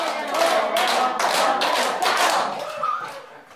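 Rhythmic hand clapping in a group cognitive-activity game, loud and close, with irregular bursts of claps and voices mixed in.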